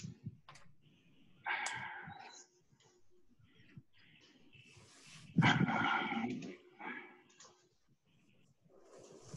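A dog growls and grumbles in a warm indoor room in a few low, rough bursts, the loudest near the middle, fairly close, with quiet moments between and no talk over it.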